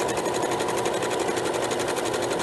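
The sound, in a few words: sewing machine sewing a row of smocking stitches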